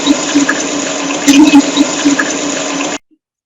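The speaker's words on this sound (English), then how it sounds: "We will hear the water running until I put the filter on when I come back down." Water gushes steadily into a sink for about three seconds, loud and close, then cuts off abruptly into silence; no voices.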